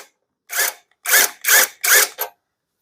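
Four or five short, loud mechanical bursts from a tool working on the front wheel nut of a Royal Enfield Bullet 350 motorcycle, each separated by brief silence, close and alone.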